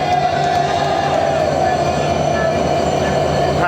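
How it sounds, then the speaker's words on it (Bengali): The Jahanabad Express rumbles steadily nearby as it leaves the platform, wheels rolling and metal ringing, with a constant loud drone and a faint squeal toward the end. "ট্রেনটি চলতে শুরু করেছে জাহানাবাদ এক্সপ্রেস প্ল্যাটফর্ম ছেড়ে গেল"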